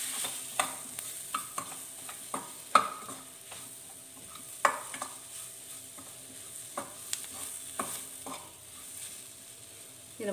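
Ingredients being sautéed in a pan: a soft background sizzle broken by irregular spoon scrapes and light taps, fairly close and quiet, with no voices.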